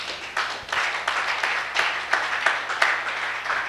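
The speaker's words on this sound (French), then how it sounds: "Acclamons cette parole" A congregation claps in a steady rhythm during a sermon, with loud, close, regular bursts of hand claps repeating throughout.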